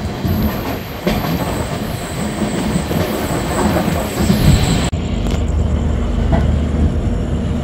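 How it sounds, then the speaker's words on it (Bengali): The Sairang Kolkata Tri-Weekly Express runs on a curve. Its wheels squeal steadily and loudly over a continuous rumble and clatter heard from inside the train, with one brief dip partway through. "ওফ, কি আওয়াজ। আর এদিকে দেখো ট্রেনের কার্ভ"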